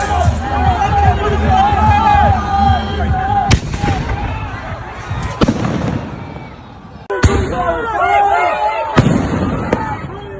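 Firecrackers and bombs explode during an attack on pro-Palestinian protesters, with sharp blasts and crackling bursts over a noisy crowd and agitated voices throughout.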